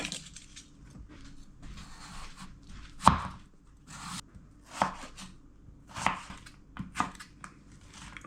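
A knife slices through a prickly chayote on a cutting board, giving a handful of separate crisp cuts and chops spread out, fairly close and moderate in level over a low background hum.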